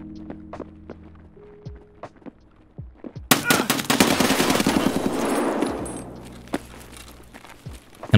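A sustained burst of automatic gunfire in the video game Escape from Tarkov breaks out after a few seconds of quiet footsteps and movement. It rattles loud and close for several seconds before trailing off.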